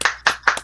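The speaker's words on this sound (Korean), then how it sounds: "큰 박수 한번 보내주세요" A rally audience gives three quick bursts of hand clapping, each sharp at the start and then fading, loud and close.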